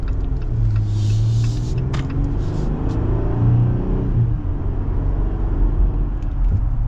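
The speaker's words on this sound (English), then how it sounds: "should be able to get an acceleration here now. This is just partial throttle." A 2024 Jeep Gladiator Sport S with a naturally aspirated engine accelerates at partial throttle at over 4,000 feet elevation. A steady, loud low engine drone and road rumble are heard from inside the cab, with no sharp revving peaks.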